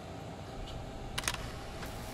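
An instant camera in the video game Life is Strange clicks its shutter and whirs briefly, a couple of quick crisp snaps over a quiet background hum.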